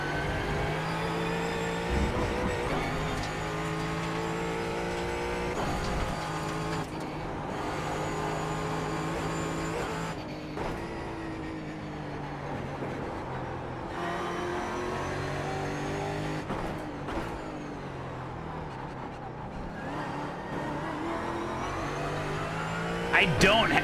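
Race car engine from the iRacing sim during an eNASCAR Coca-Cola Series playoff race, droning steadily and loud throughout with shifting pitch as the car accelerates and lifts, under a voice talking over it.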